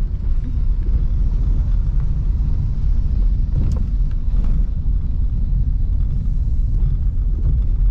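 A car rolls along a rough road full of giant potholes, a continuous loud low rumble of engine and tyres with jolting thumps over the broken surface.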